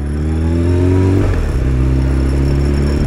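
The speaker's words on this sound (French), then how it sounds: "Ah, mais regardez-moi cette Ferrari" A Ferrari sports car roars along a Monaco street, its loud, close engine note rising in pitch and then shifting as it passes, a continuous mechanical growl with no talking.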